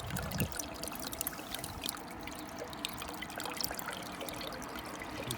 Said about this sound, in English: you see that the water is dripping through